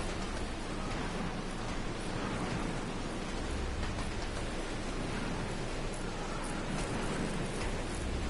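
Steady rain hisses on a moving train in the Resident Evil 0 video game, a dense, continuous wash of droplets with a low rumble beneath, even and unbroken throughout.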